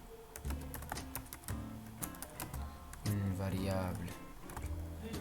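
Code for a Python random password generator is typed on a computer keyboard in quick, uneven bursts of close clicking keystrokes, with someone speaking over the typing throughout.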